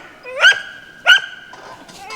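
A farm dog barks at a tree squirrel in the woods: two sharp, loud, close barks about half a second apart, followed by softer yips and whines.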